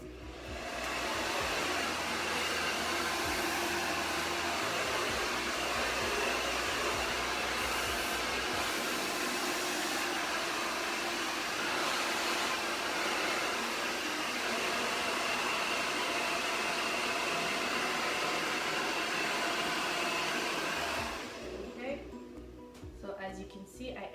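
A handheld hair dryer blows steadily and loudly while hair is dried, a continuous broadband whoosh running for about twenty seconds before cutting off near the end, with a few faint handling sounds after.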